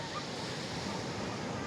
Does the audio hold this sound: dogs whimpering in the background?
no